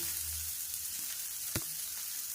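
Steady, loud sizzling of chopped large onions frying in a pan for chutney, a continuous hiss with a brief clatter midway, no talking.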